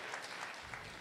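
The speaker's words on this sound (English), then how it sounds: "Another round of applause for Dr." Quiet audience applause at an economic symposium in Sunyani, a soft, even patter of many hands heard from a distance, with no speech over it.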